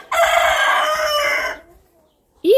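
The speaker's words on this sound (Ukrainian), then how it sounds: "Кохінгінки там ходять." Cochin rooster crowing in a barnyard, one long, loud, close cock-a-doodle-doo that fades out, then a short silence before another call begins.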